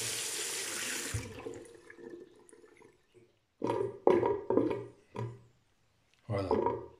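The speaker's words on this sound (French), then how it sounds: "Parce qu'ici, ça glougloute sec." Tap water rushes into a bathroom washbasin for about a second, then the drain gurgles in a series of loud, choppy glugs separated by short pauses, close and alone.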